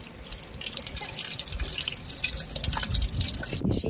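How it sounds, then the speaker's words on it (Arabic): Cold water runs from a roadside spring tap in Turkey, giving a continuous close splashing trickle with bright dripping spatter. It carries on steadily and stops abruptly near the end. "في على طريقنا مي، انا كثير بحب اشرب من هاي المي"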